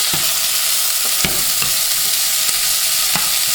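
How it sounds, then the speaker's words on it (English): Onions and habanero peppers sauté in a hot pan for escovitch sauce, a loud steady sizzle with frequent spoon taps and stirring scrapes, close and uninterrupted by speech. "add your onions with your habanero. And saute them for like half"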